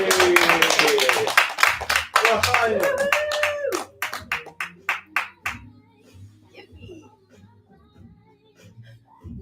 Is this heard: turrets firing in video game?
no